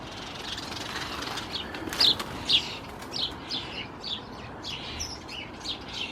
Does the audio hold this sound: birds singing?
yes